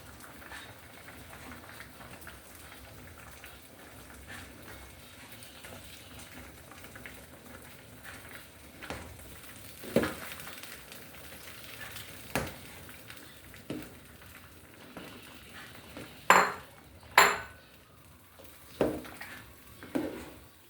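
Tapioca starch is stirred into a boiling pot of water for noodles, a soft bubbling simmer with occasional clinks and scrapes of a spoon, growing into sharper knocks toward the end, no speech.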